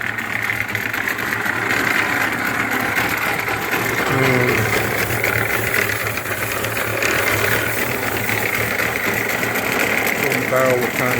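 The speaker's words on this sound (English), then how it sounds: "So the old antique concrete mixer is getting a workout again" An old antique concrete mixer runs steadily throughout, a continuous mechanical churning with a rhythmic rattling, whirring drone that stays loud and close for the whole stretch.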